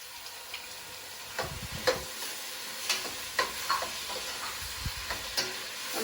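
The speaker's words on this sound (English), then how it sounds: "I've been frying the onions for, I don't know, about 10 minutes" Onions that have fried about ten minutes and are starting to caramelize, with tomatoes just added to the pan, sizzle steadily while a spoon scrapes and stirs in irregular bursts, close and moderately loud, with no talking.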